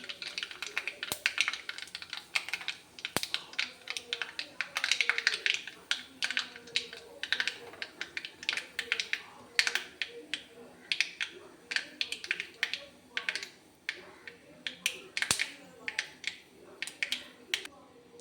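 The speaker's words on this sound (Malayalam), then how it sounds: "കടുക് പൊട്ടി വരുമ്പോൾ" Mustard seeds popping in hot oil for a lemon pickle, a steady run of sharp, irregular crackles and snaps close by, with a few louder pops standing out.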